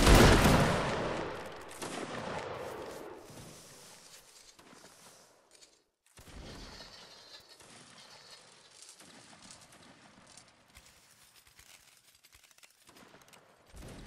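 A massed musket volley from line infantry in Napoleonic Wars bursts loud and crackling, then rolls away into echoing rumble, with further scattered shots and a later, quieter volley in the distance.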